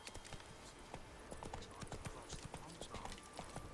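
Geralt's horse Roach trots in The Witcher 3 with a steady, rhythmic clip-clop of hooves and the faint creak of tack, heard close and fairly quiet, with a brief whinny-like note.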